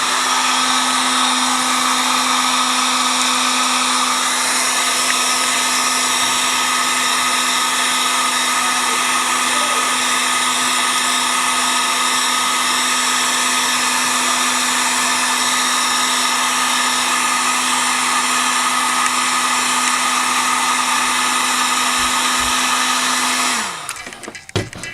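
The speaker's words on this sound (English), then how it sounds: "And then I'll use the heat gun, and I will melt everything on so it adheses better and everything" Heat gun blowing hot air steadily over carbon fiber wrap on an RC car body, a loud continuous whooshing roar with a low hum that holds unbroken for about 24 seconds and then cuts off abruptly.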